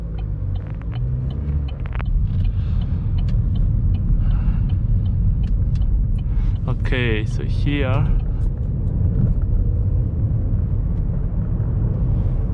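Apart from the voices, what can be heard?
2013 Vauxhall Astra 1.4 SRi driving onto motorway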